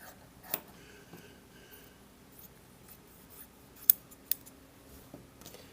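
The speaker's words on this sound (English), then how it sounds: "Now I'm going to cut a piece" Scissors cutting fabric for a patch pocket, a few quiet crisp snips and rustles scattered through near silence, with two sharper clicks close by.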